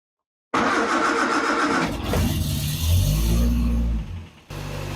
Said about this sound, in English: And let's start the car.